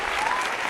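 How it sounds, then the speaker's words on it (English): Dense applause from a crowd, added as a sound effect, fills the whole short moment with steady clapping at an even level. "I had to add in the applause sound effect"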